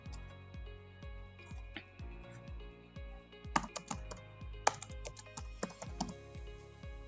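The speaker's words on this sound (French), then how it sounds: "On tape les informations," Computer keyboard typing as data is entered into an Excel form: a steady run of close, crisp keystrokes in an even rhythm, with a few quick bursts of faster key presses near the end and no talking.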